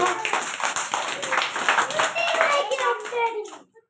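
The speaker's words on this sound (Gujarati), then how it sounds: "તાળી પાડો." Young children clapping in an anganwadi preschool, a quick run of uneven small-hand claps spread across a few seconds, near and fairly loud, with children's voices mixed in before it tapers off.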